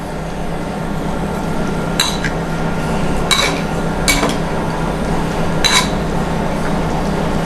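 Salt and sherry vinegar stirred through a warm lentil salad with crispy lardons, a few sharp clinks of a utensil against a dish over a steady low kitchen hum, nearby and moderately loud.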